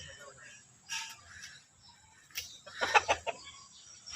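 Roosters and hens cluck and call on a farm, several short bursts rising to a busier cluster of clucks near the end, close and moderate in volume, with someone talking intermittently.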